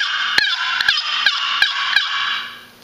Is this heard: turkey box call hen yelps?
yes